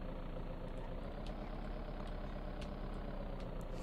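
A school bus engine idling in VEIN, a steady low rumbling drone that holds even and unbroken, with faint ticks and clicks scattered above it.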